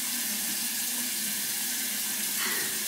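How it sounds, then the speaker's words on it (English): A bathroom sink tap left running, giving a steady close hiss of flowing water throughout with no talk over it. "I'm leaving my water on"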